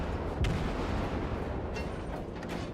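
Naval gunfire from a destroyer in the World of Warships video game, a heavy boom early on followed by rolling rumble and softer distant thuds under a dense, loud battle din.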